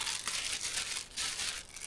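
Small plastic bag holding a little talc, crinkled and rustled by hand in bursts of bright crackling close by, with no talking.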